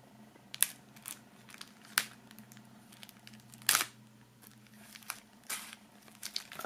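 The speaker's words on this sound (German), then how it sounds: "holen wir mal die Musik hier aus der Folie" Plastic shrink wrap is torn and crinkled off a music CD during a box unboxing, producing several sharp, close crackling rips spaced a second or so apart with no talking.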